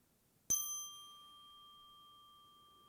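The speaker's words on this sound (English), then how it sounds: "I send my heart along with the sound of this bell." A single mindfulness bell struck once during a meditation chant, a clear ring that rises sharply then hangs and slowly fades into quiet.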